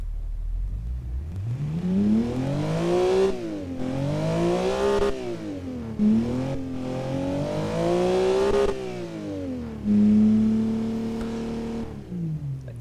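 A flat-six boxer engine in BeamNG Drive revs up and down in several sweeping climbs and drops, holding a loud, steady harmonic drone between pulls, heard alone without talk.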